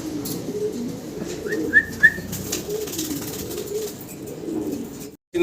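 Pigeons at a breeding farm coo in soft, low, steady murmurs, with a few brighter whistling calls in the middle, and no voices.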